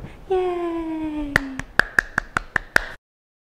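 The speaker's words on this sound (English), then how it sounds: "clap, clap your hands" Hands clap along to a children's song at storytime, about seven sharp, evenly spaced claps close by, following a sung note and ending in quiet.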